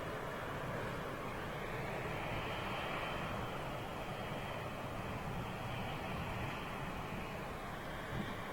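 A BOAC Boeing 747 airliner beginning to roll for departure, its engines producing a steady, broad, distant roar that holds constant without pause.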